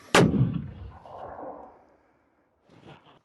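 A single powerful artillery blast at a Russian military training range hits suddenly, followed by a rolling rumble that fades over a second or so, then a faint distant thump.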